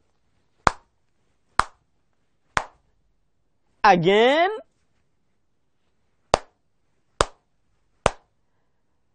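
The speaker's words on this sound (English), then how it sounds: "Can we clap three, please?" A school class clapping hands together in rhythm: three sharp, evenly spaced claps, a brief spoken word, then three more claps, close and clear in a quiet room.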